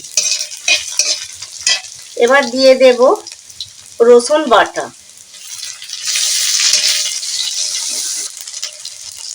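Onions frying in mustard oil with bay leaf in a pan, sizzling and stirred with scraping strokes, someone speaking briefly over it before the hiss swells louder and steady.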